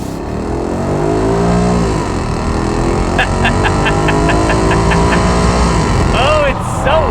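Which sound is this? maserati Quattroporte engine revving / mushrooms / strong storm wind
maserati Quattroporte engine revving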